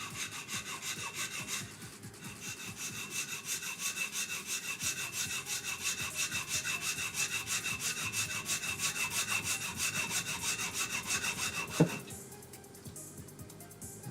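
Steady hand hacksaw strokes cutting through material on a workbench, rapid rhythmic rasping close by for about twelve seconds, a brief pause near two seconds, ending with a sharp clunk as the cut finishes and quieter noise after.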